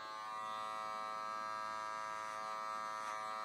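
Electric hair clippers buzz steadily with a constant tonal hum throughout, close and unbroken, during a home haircut.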